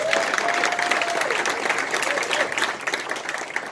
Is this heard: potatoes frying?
no